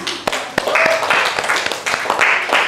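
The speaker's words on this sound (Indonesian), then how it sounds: "Oke, tepuk tangan." A classroom of students claps together in quick, uneven bursts for a couple of seconds, fairly close and loud, with a teacher's voice briefly heard over it.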